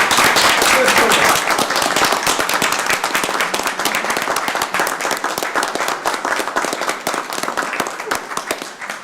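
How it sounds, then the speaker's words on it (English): A crowd at a Columbus, Georgia city council meeting applauds, a dense burst of clapping that starts loud and slowly thins out, with speech over it. "we need to give Rick and Will an applause for the job well done"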